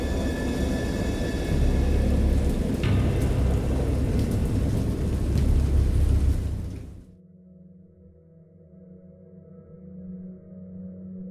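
Heavy rain roars with a low rumble of thunder in the video game Dagon, then the storm cuts off abruptly, leaving a quiet hum.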